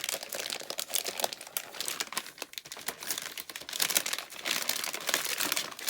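Plastic bubble wrap and tape crinkling and tearing as an advent calendar gift is unwrapped, a steady close-up rustle with sharper crunches throughout and no talking.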